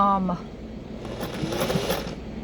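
A sewing machine running slowly as it stitches around an armhole, a steady low mechanical whir under a faint hum, close and fairly quiet, with no talking.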